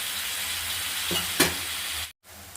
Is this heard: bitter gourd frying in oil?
yes